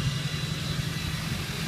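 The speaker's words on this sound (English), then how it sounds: "We're going to step on the gas, let you hear it." A 2005 GMC Sierra with a 6.6-liter Duramax turbo diesel runs steadily at close range, a loud, continuous low engine drone with a deep throb and no clear rise in pitch. No one speaks over it.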